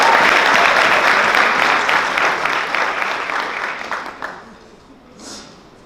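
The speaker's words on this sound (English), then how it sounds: "One more round of applause for Samaya." Sustained audience applause for a student's speech at a youth awards event, loud and dense at first, then thinning and fading over several seconds to a quiet tail.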